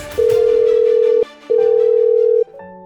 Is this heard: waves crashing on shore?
no